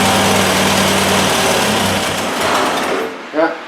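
A freshly restored motorcycle engine runs at a steady idle during bench testing with a fairly quiet, even hum. It sputters and dies near the end as the fuel runs out, and a voice talks over it.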